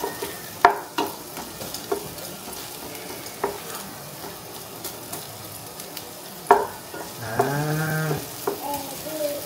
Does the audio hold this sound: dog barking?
no